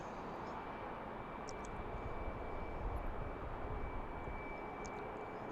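A Southwest Boeing 737 MAX 8 airliner at BWI airport gives a steady, distant jet engine roar that holds evenly throughout, a broad rumble with a faint high whine.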